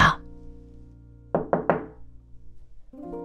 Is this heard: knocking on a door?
yes